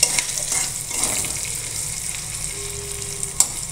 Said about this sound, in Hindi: जीरा फुटिगला प्याज कटा पकईद ताकू ताकू नाली नाली हवा जाए कि प्याज गुड़ा को भाजवा